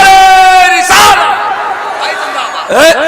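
A crowd at a religious gathering roars takbeer slogans in two loud, brief surges answering a single leading call, all very close and loud.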